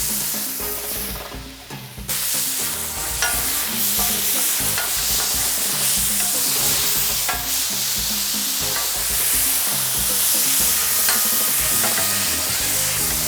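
Thinly cut steak seasoned with kosher salt, garlic powder, black pepper and onion powder fries in a pan with a loud, continuous close sizzle and occasional utensil scrapes and pops.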